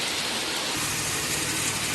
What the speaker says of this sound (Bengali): দেখতে পাচ্ছেন বৃষ্টির যে বর্তমান যে পরিস্থিতি